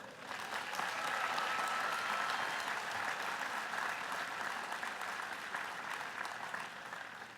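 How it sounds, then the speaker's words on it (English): A large commencement audience claps continuously for several seconds, a dense, steady wash of applause that swells early and tapers slightly at the end. "Join me in giving this class another round of applause."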